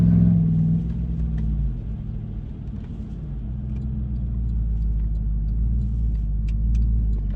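A 2008 GMC Yukon Denali with its muffler cut off, idling with a deep, loud, steady rumble heard from close by inside the vehicle, throaty and unbroken throughout.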